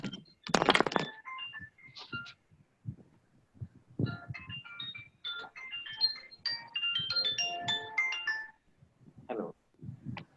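A mobile phone ringtone plays a bright electronic melody of repeated tones for several seconds, fairly close, with voices heard before and after it.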